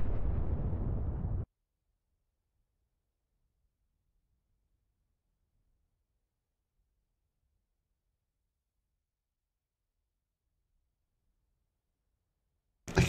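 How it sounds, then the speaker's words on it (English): Incoming fire strikes an A-10 Warthog in the DCS World flight simulator: a loud, dense burst of impacts, then near silence, then another sharp burst at the very end. "Ah, I'm still getting shot at, like."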